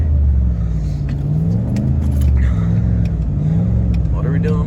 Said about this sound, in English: We're revving it.